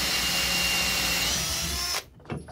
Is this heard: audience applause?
no